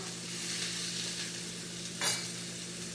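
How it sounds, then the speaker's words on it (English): Pieces of salmon fry in a pan for salmon chow mein just after being flipped, making a soft, steady sizzle with one brief louder crackle near the end and no voices. "we're gonna flip the salmon"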